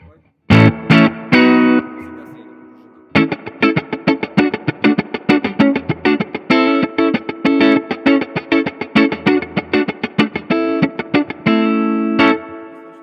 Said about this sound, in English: with strong reverb, and maybe with chorus or some flanger, some filter effect